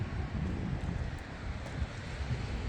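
Strong wind over a balcony in Bakıxanov, Baku, a steady broadband rush with low rumbling buffets against the microphone, continuous and fairly loud with no voices.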